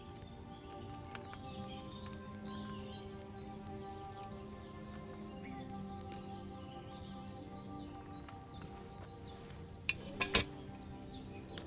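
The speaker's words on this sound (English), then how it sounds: "Hear that bubbling? It's boiling." A potion brews in a cauldron over a flame in the medieval game Kingdom Come: Deliverance II, a faint, steady fizzing bubble and simmer with soft crackles, a few louder pops near the end.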